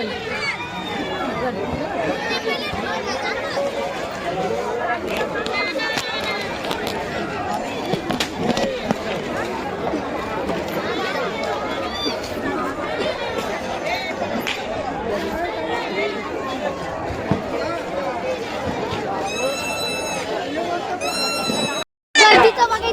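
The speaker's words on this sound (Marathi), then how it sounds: "गर्दी किती आहे." Dense crowd chatter at the Mhasa yatra fair: many voices talking at once in a busy outdoor hubbub, steady and loud throughout, with occasional shouts and nearby voices rising above the babble.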